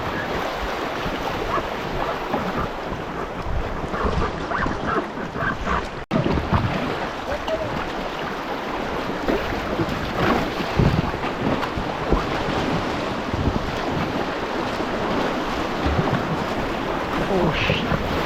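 Rough, swollen river water rushing loudly and steadily past a packraft on the Teklanika River in Denali National Park during rain, with wind buffeting the microphone throughout and no clear voices.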